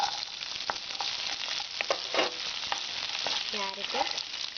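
Beans hit hot ghee for Kerala-style vegetable fried rice, giving a soft continuous sizzle with a few light stirring scrapes, moderately quiet and close, no voices.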